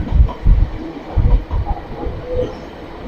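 A train on a mountain railway cut through rocky cliffs rumbles past nearby in loud, pulsing waves of wheel and engine noise, with no voices over it.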